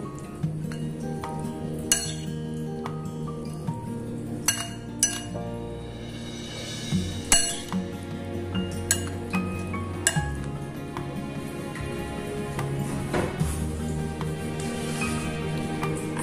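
A spoon repeatedly clinks against a bowl while broccoli salad dressed with salted chili paste is tossed, giving irregular close taps and scrapes with quiet gaps and no talking.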